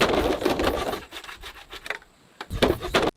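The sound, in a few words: sawing off excess palm stems with a saw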